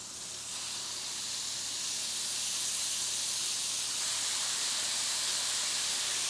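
Shrimp searing in a very hot pan give off a continuous loud hiss and sizzle that builds briefly at the start and then holds steady, with no voices.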